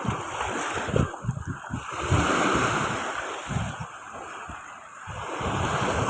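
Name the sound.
rough sea waves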